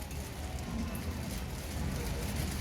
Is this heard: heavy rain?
yes